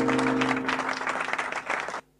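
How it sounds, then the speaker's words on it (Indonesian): Enthusiastic crowd applause at an online children's healing worship service, a dense steady burst of clapping lasting about two seconds before stopping abruptly, heard alone with no talk. "Berikan tepuk tangan yang meriah buat Tuhan."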